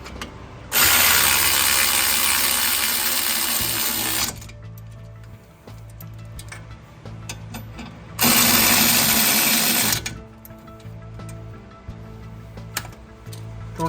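A power ratchet or impact tool tightens brake caliper bolts on a 2012 BMW during a front rotor and pad job, loud close whirring in two long bursts with quieter mechanical clatter and shop noise between.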